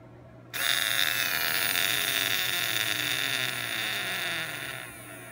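A small DC motor powered from a bank of charged capacitors whines steadily at a high pitch, starting abruptly and then slowly fading as its speed drops, with a faint background hum underneath.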